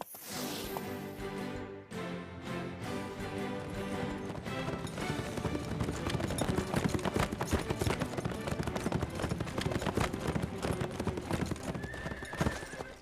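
Steady clip-clop of horse hooves under a full swell of orchestral music, with a horse whinnying near the start; hooves blend into the dense score.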